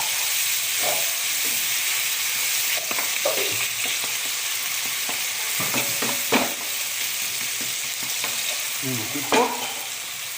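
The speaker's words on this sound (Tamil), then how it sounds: "இப்போது கட் பண்ணி வச்சுற பச்சை மிளகா போடுவோம் அப்படியே இதையும் கொஞ்சம் வதக்கலாம்" Cut green chillies sizzle and hiss steadily in a hot pan as they are sautéed, with intermittent scraping and stirring knocks over the continuous frying.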